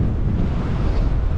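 Wind buffeting a microphone at a lake, a continuous low rumbling roar with no pauses, loud and close throughout.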